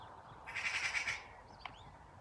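Magpie chattering near a house, a dense harsh rattling burst lasting about half a second, then a brief sharp call, moderately faint over quiet background.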